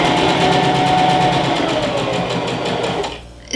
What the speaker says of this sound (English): I'm just going to pin this down and then sew it.